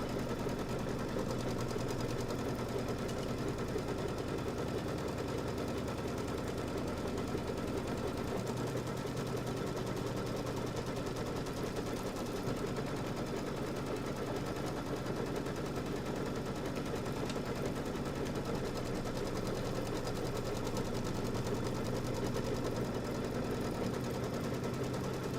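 A sewing machine runs steadily while stitching a quilt block for Kimberbell Pumpkins & Potions filler blocks, its rapid mechanical chatter holding at an even, continuous level throughout with no talk over it.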